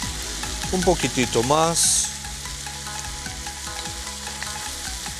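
Minced meat sautéing in a pan for a soy stew, a continuous frying sizzle with light utensil scrapes, briefly under a spoken remark at the start.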